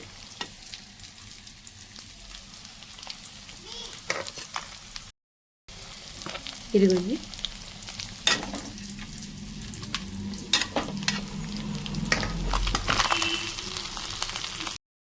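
Fish pieces frying in oil for a village-style fish fry give a steady close sizzle with occasional stirring clatter and crackles, which grow busier toward the end.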